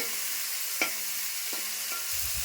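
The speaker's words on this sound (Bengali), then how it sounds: "এখন চিংড়ি মাছগুলো ভালো মতো ভেজে নিচ্ছে" Prawns frying in hot oil for a jackfruit and prawn dish, a steady close sizzle with a few light stirring knocks and no voices.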